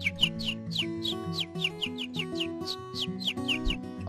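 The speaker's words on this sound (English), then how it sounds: "It's a bird!" Cartoon bird chirping in a quick, regular run of bright tweets over a soft musical background, with no talk.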